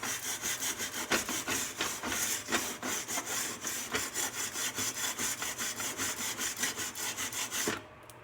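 Steady back-and-forth scrubbing of a kitchen surface with a scrubby sponge and baking soda, rapid rhythmic rasping strokes up close, stopping abruptly near the end.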